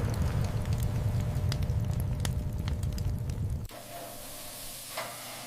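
Steak searing on a grill at 500 degrees Fahrenheit, a dense, loud hiss and crackle that cuts off abruptly partway through and leaves a faint, quieter background with a few small pops.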